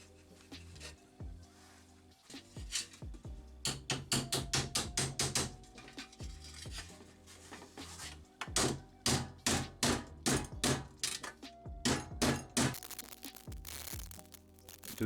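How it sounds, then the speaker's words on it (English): Hammer tapping along the edges of cut sheet metal to flatten them, rapid bursts of sharp metallic blows in quick rhythmic runs separated by short pauses, close and fairly loud. "we're gonna need some pliers and a hammer to flatten the edges so they won't cut you"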